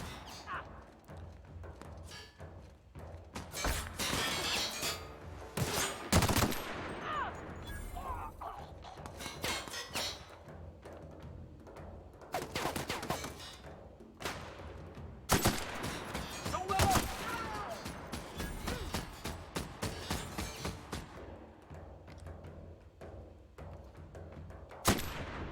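Gunfire from the video game The Outer Worlds comes in sharp, loud bursts and volleys scattered across the scene, mixed with clangs and thuds, over busy game sound.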